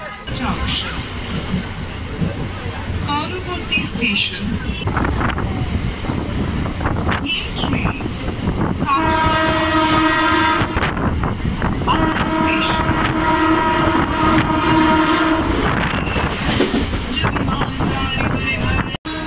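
A train runs at a suburban station near Bidhannagar, giving a loud, continuous rumble under heavy wind buffeting, with a sustained horn-like tone in the middle, and voices talking throughout.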